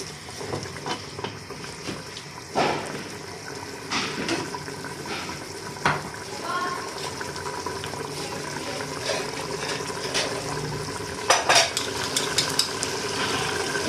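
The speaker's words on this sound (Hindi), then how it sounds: "एक मैं इसको थोड़ी देर के लिए भूनती हूँ, पानी खुशक हो जाएगा" Mutton korma with a little water being fried and stirred in a pot, a steady soft sizzle with scattered scrapes and clinks of the spoon, close by and with no talking.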